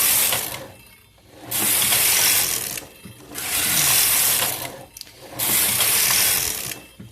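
An SK360 knitting machine knitting slip stitch gives three long, loud mechanical passes of whirring, ratcheting clatter as the carriage crosses the bed, each split by a short quiet gap.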